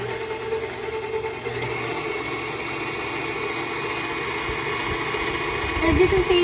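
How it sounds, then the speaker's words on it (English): An electric mixer hums steadily as it beats sponge cake batter, a close, constant motorized whir with a slight rise in loudness toward the end. "don't start mixing while the mixer's on"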